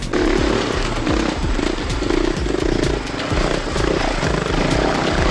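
A small four-stroke SWM RS300R enduro motorcycle engine runs steadily at high revs, loud and close, with a continuous buzzing drone and no talking.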